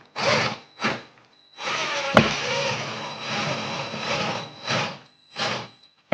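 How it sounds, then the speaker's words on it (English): A power drill drives long screws into a wall to mount a light fixture, whirring in several separate bursts, short ones at first and then a longer sustained run, close and fairly loud. "just throw our screws in right there, as high as we can go"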